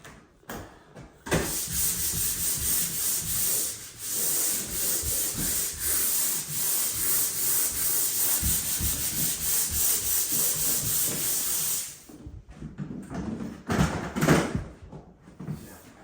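Painted wall patches are sanded by hand with a long, continuous scratchy rubbing that runs for about ten seconds. Irregular scuffs and handling noises come before and after it.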